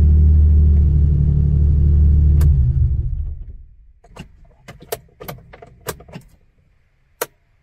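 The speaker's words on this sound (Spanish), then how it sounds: "Mejor decido apagar el auto." Car engine being switched off, a loud steady low rumble that winds down and fades out, followed by light clicks and jingling of keys.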